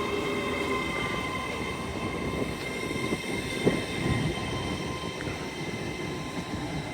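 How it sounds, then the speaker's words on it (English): Class 801 unit 801-205 on a service towards Edinburgh Waverley at Newark Northgate station on the East Coast Main Line, a steady mid-level rumble of the train running through, with one brief sharp wheel or rail knock partway through and no talk. "(801-205) working a service towards Edinburgh Waverley"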